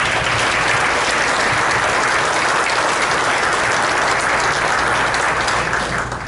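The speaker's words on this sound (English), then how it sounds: "give them a round of applause." An indoor audience gives a round of applause at a panel event, with dense, steady clapping that carries on at an even level throughout.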